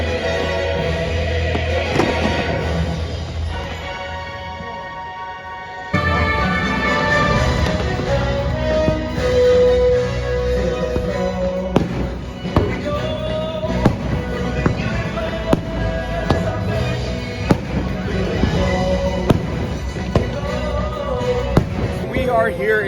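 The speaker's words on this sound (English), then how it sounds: "We are here enjoying the amazing fireworks show for Disney's 100 at Epcot" Fireworks show at Epcot for Disney's 100 celebration, with booming bursts and crackling pops over a swelling orchestral soundtrack and crowd ambience, the explosions growing denser and more frequent after the first few seconds.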